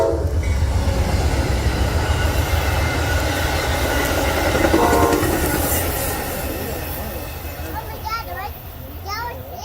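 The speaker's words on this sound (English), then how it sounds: "The next train was Amtrak 64 with Amtrak 130 leading the way." Amtrak 64, a passenger train led by locomotive Amtrak 130, rumbles past loudly with rolling wheel noise and clatter, while children play and voices chatter nearby.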